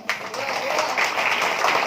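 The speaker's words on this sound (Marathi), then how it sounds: "यांच्यासाठी जोरदार टाळ्या" A crowd at a Malvani Vastraharan stage play during a Datta Jayanti festival breaks into applause for the sound master, a dense, sustained clatter of clapping hands throughout.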